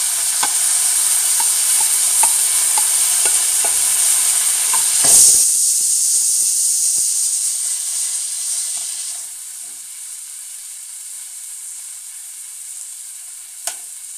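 Green chilies and onion sauté in a hot pan, producing a loud, close, hissing sizzle with light stirring taps that gradually softens and settles into a quieter fry.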